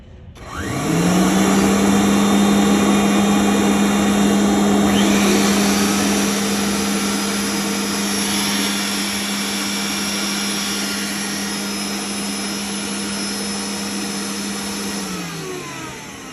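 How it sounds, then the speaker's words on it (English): A Rainbow vacuum cleaner starts up with a rising whine, runs at a steady, loud drone, then begins to wind down at the end. "We're gonna vacuum."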